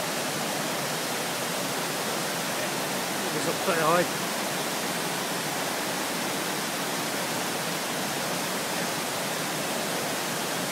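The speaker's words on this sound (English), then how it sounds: "It's one of the waterfalls." Constant rushing water roars evenly throughout, a broad hiss like a nearby waterfall in Glencoe's Lost Valley, with a short spoken remark briefly heard over it.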